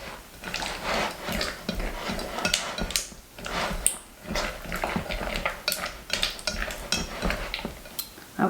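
A utensil stirs a thick fudge mixture in a bowl, producing steady, close scraping and clinking strokes in an uneven rhythm, with no voices.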